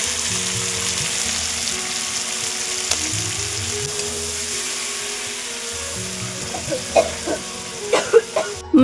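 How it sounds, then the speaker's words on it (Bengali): Meat cooks in a hot pan, giving a steady close sizzle and frying hiss throughout, with a few louder stirring clinks and knocks near the end. "আজকে আমি মাংস রান্না করতে চলেছি"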